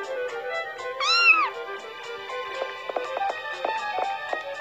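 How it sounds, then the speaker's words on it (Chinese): Cat in the video game Sakura School Simulator gives one clear, close meow, with soft game sounds and light tonal chimes continuing around it. "哇塞，还有一只特别可爱的小猫咪。"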